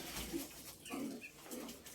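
A pigeon from a flock of flying pigeons coos softly a few times, faint and somewhat distant, with quiet background noise around it.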